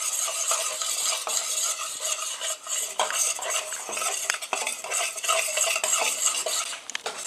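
Flour fries in melted margarine in a pan while a spoon stirs it constantly, giving continuous scraping and clinking of metal against the pan over a light sizzle, close and steady with no talking.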